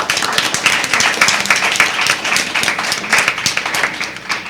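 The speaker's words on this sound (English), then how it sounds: "So please give them all a round of applause." A school audience at a junior science quiz applauds the competing teams with brisk, loud, close clapping that keeps a dense, steady rhythm from start to finish.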